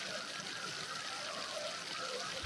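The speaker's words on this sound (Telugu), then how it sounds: "ఆ చింతపులుసును తీసుకొని ఇప్పుడు ఇందులో పోసుకోండి." Tamarind water pours into a pot of simmering taro stew, a steady, soft liquid stream and trickle heard up close without interruption.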